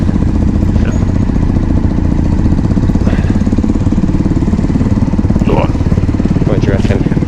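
Motorcycle engines on a Kawasaki Z125 and a Honda Africa Twin run close and loud, a steady buzzing drone throughout, with brief chirps and voices faintly over the top.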